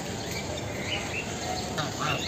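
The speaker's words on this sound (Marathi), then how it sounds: "हे बघा बदक" A duck quacks on temple grounds on a hilltop, its calls faint and brief over a steady outdoor background hiss, with no talking.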